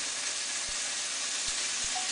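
Meat browning in a little olive oil in a pan while hunter's stew is prepared, giving a steady, fairly faint sizzle throughout with a few soft low knocks.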